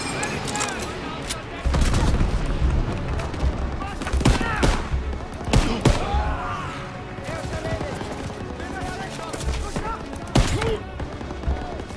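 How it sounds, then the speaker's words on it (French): Machine-gun bursts and scattered gunshots in a Call of Duty WWII battle, rapid and loud, mixed with booms and thuds amid chaotic combat noise, with voices shouting over the firing. "Mitrailleuses nous taillent en pièces!"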